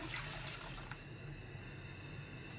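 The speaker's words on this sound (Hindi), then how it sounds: "ये 1 बाउल पानी है। 1 बाउल में 3 गिलास पानी आता है। ये हम डालेंगे गोश्त गलने के लिए।" A bowl of water pours into a pot of mutton chops in a kitchen, with a splashy gush at first that settles into a quieter, steady trickle.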